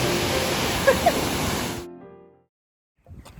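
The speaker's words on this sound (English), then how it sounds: "Found a waterfall." A waterfall in Buckingham, England, with ducks on it, gives off a steady, close rushing roar for about two seconds before it cuts off abruptly. A faint noise follows near the end.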